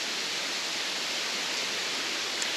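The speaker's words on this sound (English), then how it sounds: "What an amazing waterfall." Cathedral Falls waterfall in Gifford Pinchot National Forest, Washington, a steady broadband rush of falling water, even and continuous, heard alone at moderate distance.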